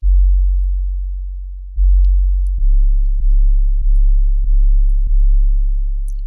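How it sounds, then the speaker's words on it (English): A heavy 808 sub bass synth tone with its oscillator pitched down two octaves, a long booming note followed by a series of evenly spaced repeated hits, loud and alone. "And we get this heavy, subby noise."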